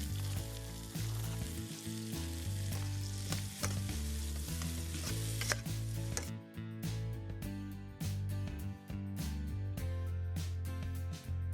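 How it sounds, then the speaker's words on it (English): Onions and peppers sizzle and crackle steadily in hot oil in a pan, a dense continuous frying hiss with occasional stirring clatters, close up and with nobody speaking. "steadily cook down the onions and peppers in the same now flavourful oil."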